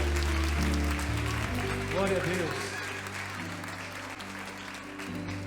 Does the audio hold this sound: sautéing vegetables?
no